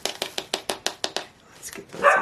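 Several dogs barking indoors in a quick, regular series of sharp barks, then a short pause and a few softer yips and scuffles at the end, fairly close and with no talking.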